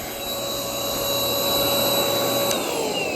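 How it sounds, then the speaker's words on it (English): Shark 2-in-1 stick vacuum running up close with a steady high-pitched motor whine and airy suction hiss, a brief pitch change near the end before it cuts off. "it's a pretty rare stick vacuum, so I just figured why not get it"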